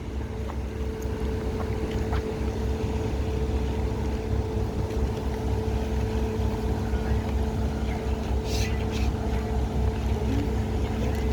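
Cabin boats pass on the Saône at Rochetaillée-sur-Saône, a continuous droning engine hum with a steady tonal whine carrying across the water, with wind noise and faint splashes.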